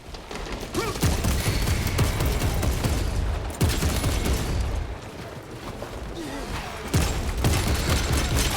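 Sustained gunfire in the video game Warhammer 40,000 Space Marine 2, loud dense bursts of rapid shots and blasts running almost without a break, with brief lulls and heavy impacts layered through.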